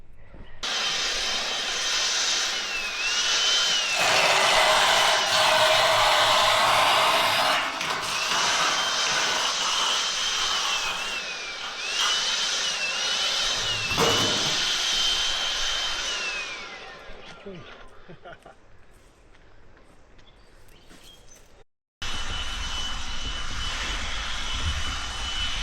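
A leaf blower clears gathered leaves on a rural property during setup of a hardwood sawmill, a loud steady whine running for most of the stretch before dropping off, with a short gap and then the roar resuming.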